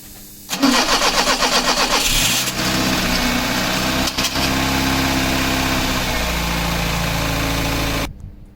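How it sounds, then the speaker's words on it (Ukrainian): A 1998 VAZ-21099 with a 1.5 petrol engine, just fitted with a new fuel filter, cranks briefly with a rapid starter whir, catches, then settles into a loud, steady idle for several seconds before the sound cuts off. "автомобіль завівся"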